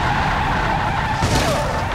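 Car in the BeamNG driving game braking hard, with a loud, sustained tire skid that swells toward the end over steady engine noise.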